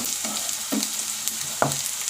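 Onions frying with ginger garlic paste, with a steady close sizzle broken by three distinct spatula scrapes against the pan, no voices heard.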